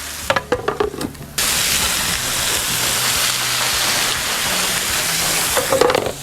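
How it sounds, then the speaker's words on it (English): Bok choy hitting a hot pan beside cooked cod and steaming, a sudden loud, steady hiss and sizzle that starts abruptly after a few handling clatters and carries on strongly, with more rattling near the end. "Steam him for a couple of minutes."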